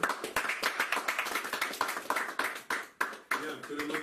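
A church congregation claps and applauds together, producing a steady run of sharp, irregular hand claps that comes close and fairly loud, with a short pause partway through.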